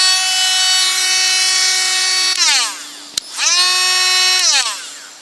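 A Ryobi FVM51 lithium battery rotary tool runs with a high, steady whine, spins down briefly, clicks, then spins back up to full speed before winding down again.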